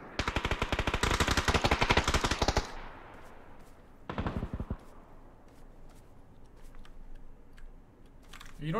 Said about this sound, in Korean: 쟤도 총 쏘고 있지.